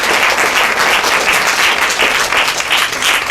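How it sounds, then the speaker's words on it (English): Graduation audience applauding in a hall, a dense sustained clapping from a sizable crowd, loud and even throughout without a break. "give yourself another round of applause"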